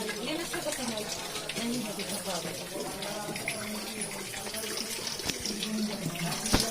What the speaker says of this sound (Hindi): ये पानी नीचे से आ रहा है, तो ये पानी जो है इसमें ज़मीन से आ रहा है